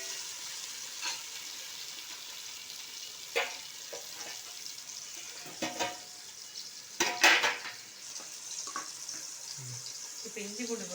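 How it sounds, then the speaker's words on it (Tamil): Tomatoes sautéing in a pan for pepper chicken, with a low frying hiss and scattered scrapes and clanks of a spoon against the pan, a louder clatter midway and a brief voice near the end. "இப்போ தக்காளி போட்டுக்கலாம். தக்காளி நல்லா வதங்கணும்."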